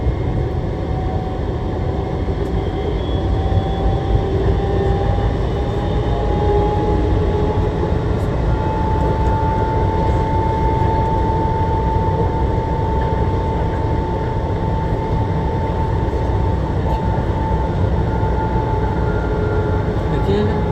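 A VAL 208 metro trainset rides a full trip between 4 Cantons and CHU Eurasante, giving a loud, steady rumble with a drawn-out rising whine that runs continuously throughout.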